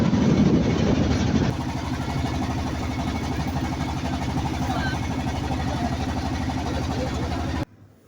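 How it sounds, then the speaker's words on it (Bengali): A hired trawler boat's engine drones steadily with a low, even rumble, on the way to Chatir Char across the Nikli haor; a burst of broadband noise marks the first second and a half, and the engine sound cuts off just before the end. "তো ওই যে দেখছেন সামনে একটি ট্রলার আসছে"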